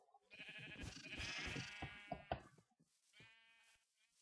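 Sheep bleating in the video game Sheep Quest, a long wavering bleat followed by a shorter, fainter one, heard close and alone without talk.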